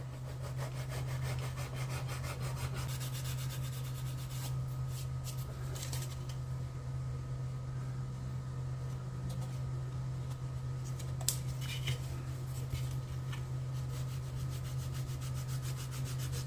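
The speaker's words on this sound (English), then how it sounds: "So I'll work on that while wet sanding." Steady rubbing and scrubbing of wet sandpaper on a plastic 1967 Impala model car body, a continuous close abrasive swish with a constant low hum underneath and no talking.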